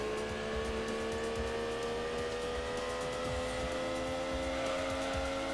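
A Mazda Miata in Gran Turismo 2 races at high revs, its engine giving a loud, steady, buzzing drone that holds a constant pitch throughout with no speech.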